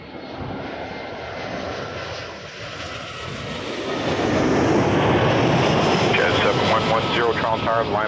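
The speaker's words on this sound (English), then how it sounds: "there's the 350 taking off over there" An Airbus A350 jet takes off at Toronto Pearson, its engine roar building from a broad rush into a louder sustained thunder, with radio chatter heard over it toward the end.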